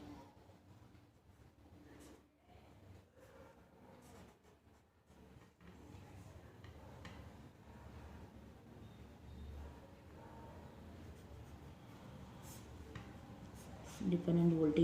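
Pen scratching on paper while a circuit diagram is drawn, with faint intermittent strokes and taps under a man's quiet explanatory speech.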